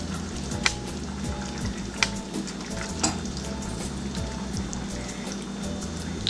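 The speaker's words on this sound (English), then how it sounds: "So we'll have a vigorous boil." A pot of rice and peas cooking with butter on top, boiling vigorously with steady bubbling and sizzling, plus a few sharp clicks or drips, close and moderately quiet with no talk.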